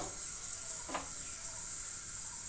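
Fish added to hot oil with nigella seeds in a wok, giving a steady broad sizzle throughout with a single soft splash-like burst near the start, close and without voices.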